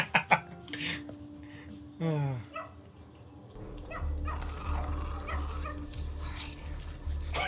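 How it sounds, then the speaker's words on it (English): Several dogs yip, bark and whimper in a TV show scene, short bright cries scattered over a steady low hum, with voices talking alongside. "Why are there so many dogs?"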